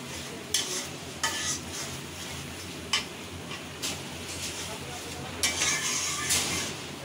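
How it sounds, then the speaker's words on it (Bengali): Spice mixture for chicken curry being stir-fried in a pan, a constant sizzle under periodic sharp scrapes and taps of the spoon against the pan. "মিশ্রণটা দিয়ে এগুলো সবগুলো একসাথে করে ভালোভাবে কষিয়ে নিচ্ছি।"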